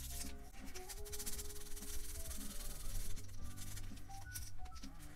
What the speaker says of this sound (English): So take some sandpaper. This is 220.